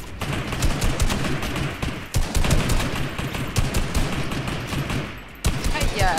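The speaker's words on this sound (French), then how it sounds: "je tire sur un bot" Rapid bursts of gunfire ring out almost continuously in a Fortnite match as a player fires at a bot, dense and loud, with short pauses between volleys and a voice talking over part of it.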